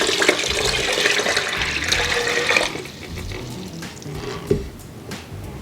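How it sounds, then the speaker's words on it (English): Tap water gushes loudly into a plastic briner bucket for a gallon fill, then cuts off, leaving faint trickles and a small knock. "I've got my briner bucket and we're gonna fill it with 1 gallon of water"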